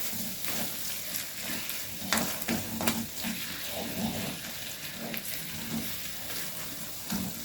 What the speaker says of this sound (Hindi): बिल्कुल हल्का सा इसको हिलाना है ताकि कीमा जो है प्याज़ों में अच्छी तरह से मिक्स हो जाए